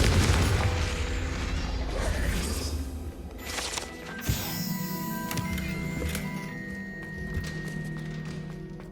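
A Confringo explosion spell goes off in Hogwarts Legacy, a loud booming burst up front that rumbles and decays into lighter magical crackles and chimes, followed by a second softer impact, with no voices.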